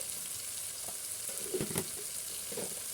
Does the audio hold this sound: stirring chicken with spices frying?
yes